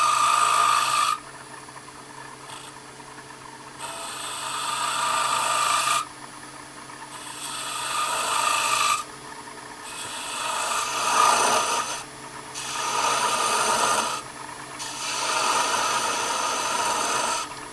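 A woodturning gouge makes scooping cuts on a spinning wooden icicle ornament on a lathe, a close rasping scrape in repeated bursts of a second or two separated by short quieter pauses.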